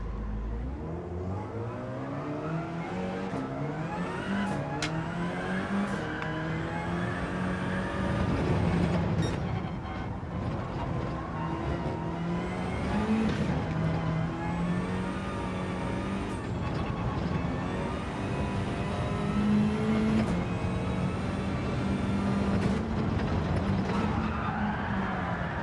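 Race car engines in the racing game Gran Turismo 7 whine and rev continuously, pitch climbing and dropping through gear changes, with several cars overlapping loudly and steadily throughout.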